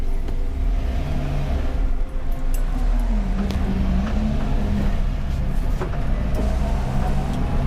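A Renault Twingo driving laps on a race track during a track day, heard from inside as a loud continuous engine drone with road and wind rumble, pitch rising and falling gently with no talk.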